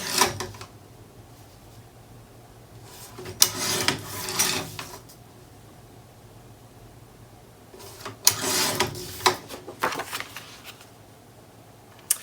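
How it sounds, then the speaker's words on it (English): Paper panels for a card being trimmed, two separate bursts of rasping, scraping strokes a few seconds apart against a quiet background, close and moderately soft, with no talking. "we've got two panels and a gusset to put in, so I just need to trim these down"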